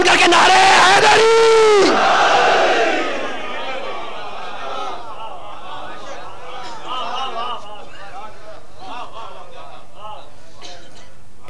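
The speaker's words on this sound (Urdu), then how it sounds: "دونوں ہاتھ بلند کر کے نعرے حیدری" A large majlis crowd shouts the religious slogan Nara-e-Haidri in a loud, massed roar that swells for about two seconds. It then gives way to quieter murmuring and scattered voices.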